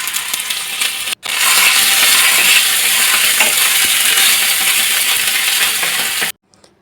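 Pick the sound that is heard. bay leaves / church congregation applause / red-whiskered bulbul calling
bay leaves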